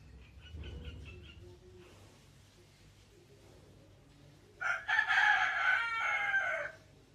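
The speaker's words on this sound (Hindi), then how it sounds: "इस मुर्गे को ज़िबा करना पड़ेगा।" A rooster crows once, loud and close, a bright drawn-out cock-a-doodle-doo rising after a few seconds of quieter background sound with faint clucking.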